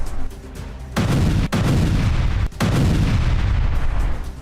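Mortar and grenade attack in combat, loud sustained booming blasts and rumbling gunfire filling the scene, with sharp breaks between heavy continuous bursts.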